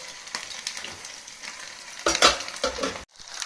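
An egg curry with cauliflower, potatoes and green peas frying in a kadai sizzles steadily up close, with louder stirring scrapes and clatter partway through and a short pause before the sizzle resumes.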